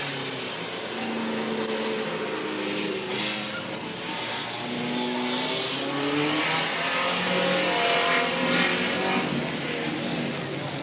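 Race cars roar around the Willamette Speedway oval in 1989, a dense, continuous engine drone from a pack of cars, rising and falling in pitch as they pass, heard from the stands with faint crowd and announcer noise underneath.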